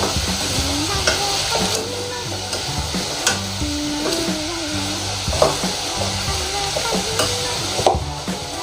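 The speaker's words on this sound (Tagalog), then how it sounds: "Okay, haluin natin." A spatula scrapes and stirs potatoes frying in a pan, with rhythmic knocks and scrapes over a steady sizzle, close and clear, no talking.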